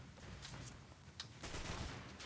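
Gunfire in the mobile shooter Destiny Rising, a dense, continuous spray of rapid shots under steady background noise, fairly faint throughout.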